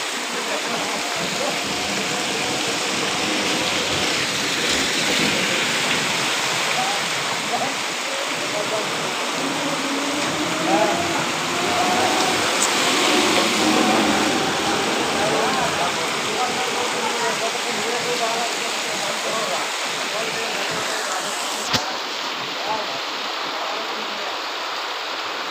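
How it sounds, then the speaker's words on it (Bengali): Heavy rain falls in a dense, unbroken hiss, drumming steadily on surfaces nearby with no pause throughout. "তাও বৃষ্টি শেষ হবে না।"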